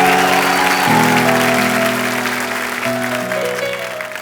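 Loud applause from a TV comedy show's studio audience with music playing underneath, gradually easing off.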